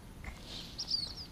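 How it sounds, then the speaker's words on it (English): A bird calls faintly in the distance, a couple of short high chirps over a low, steady background rumble with no talking. "Can you hear the bird?"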